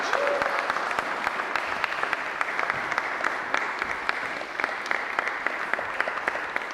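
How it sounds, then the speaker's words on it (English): Sustained audience applause follows a student concert set, a dense wash of clapping with a few louder individual claps and whoops standing out, steady throughout. "One more massive round of applause for Nellie Parks."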